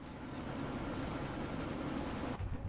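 Helicopter from the Deus Ex: Mankind Divided video game, a steady loud rotor thrum and engine roar holding throughout with no talk, briefly shifting near the end.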